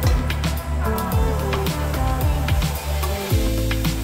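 Loud, continuous sizzling of vegetables frying in hot olive oil, with crackling and some clattering of a utensil against the pan.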